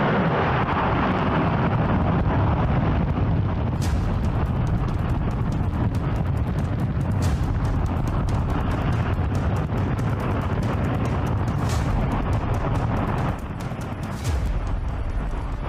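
A J-2X rocket engine test firing at reduced power over a long 125-second burn, heard as a loud, steady, broadband roar that holds for the whole stretch, with sharp crackling bursts in the upper range and a slight dip near the end.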